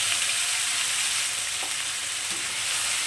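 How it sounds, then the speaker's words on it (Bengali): Ground spice paste frying in hot oil in a wok, a dense, even, close sizzle holding steady throughout without stirring breaks or voices. "এই তেলের মধ্যেই আমি যে মশলাটা বেটে রেখেছি সেটাকে দিয়ে দেবো"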